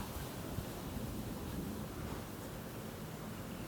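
Outdoor wind blows as a steady, full rushing roar with no gusts or breaks, fairly loud and close, and no one speaks.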